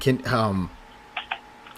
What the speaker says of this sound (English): hear typing. That's me.